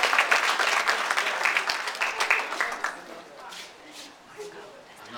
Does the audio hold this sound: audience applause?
yes